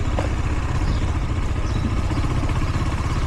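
Motorcycle engine running while ridden in second gear during licence training in Dubai, a steady low rumbling drone with rapid pulsing, loud and close, no voices.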